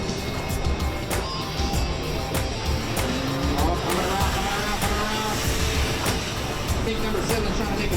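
Race cars run around a racetrack during a televised motorsport broadcast, a continuous rumble of engines with repeated sharp passing sounds, heard under a commentator's voice.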